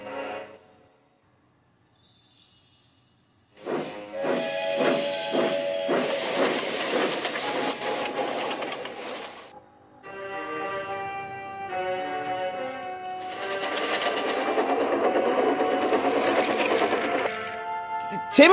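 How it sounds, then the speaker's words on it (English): A steam locomotive sets off with loud, rough hissing steam and rhythmic chuffing bursts, rising again after a brief pause, under a short whistle-like tone near the start. "Full steam ahead, Timothy."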